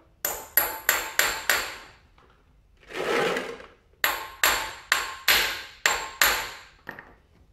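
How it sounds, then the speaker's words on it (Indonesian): A hammer strikes a motorcycle shock absorber to knock loose rust, two bursts of about five sharp ringing metallic taps each, separated by a rough scraping rub, close and loud. "kita ketok-ketok dengan palu"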